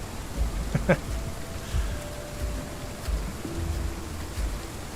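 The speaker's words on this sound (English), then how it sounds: "let me know, guys, if the rain is too loud" Steady rain in the Path of Titans dinosaur game makes a continuous hiss, punctuated by a few soft low thumps, with a faint voice in the background.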